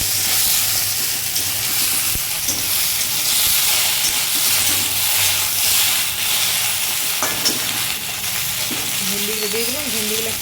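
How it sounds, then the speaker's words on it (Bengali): Okra (bhindi) sizzling in hot oil in a pan, a steady, loud crackling hiss running throughout with occasional stirring clatter and a faint tonal whine near the end. "ভেন্ডিগুলো দিয়ে দিলাম। ভেন্ডিগুলো একটু লাল লাল করে ভেজে নিই।"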